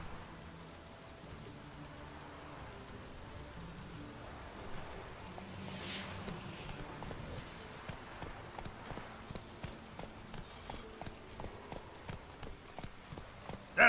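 Roach the horse gallops in The Witcher 3 video game, a steady run of soft hoofbeats that grows more distinct toward the end, low in level under light rain, with a voice speaking occasionally.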